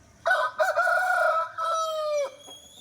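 A large rooster of about three and a half kilograms, a Salem breed, crows close by, one long loud cock-a-doodle-doo with a drawn-out ending, followed by a brief quiet pause.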